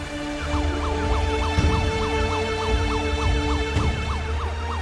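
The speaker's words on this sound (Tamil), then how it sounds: "அதுவும் அந்த ஆம்புலன்ஸ் அங்க போகுது பாரு" Ambulance siren wailing loudly and steadily in a repeating up-and-down sweep, close by, with engine rumble beneath and no talk, in a Tamil TV drama street scene.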